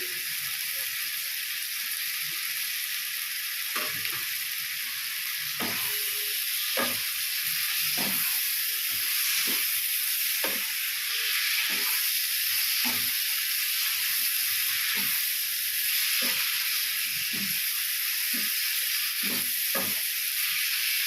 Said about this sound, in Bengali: এভাবে নাড়াচাড়া করে চিংড়ি মাছগুলো এক এক করে আমি দিয়ে দেবো।